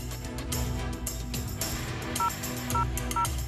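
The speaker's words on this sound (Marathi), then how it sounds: "फोन लावा वाडकर." A telephone number is punched in on a keypad during a Marathi TV serial scene, producing short paired dialing tones in quick succession over a steady background of music and room tone.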